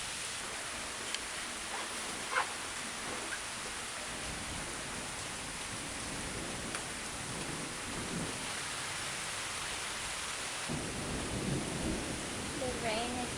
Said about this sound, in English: The rain is coming down the street like a river.